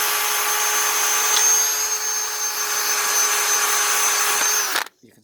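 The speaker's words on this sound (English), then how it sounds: "cordless drill with a brass cup in the end of it, just to spin round and just to clean up the blade" A cordless drill spins a brass cup brush against a Mountfield mower blade on a Honda 160cc engine, giving a loud, steady whirring grind that runs unbroken for about five seconds before cutting off abruptly.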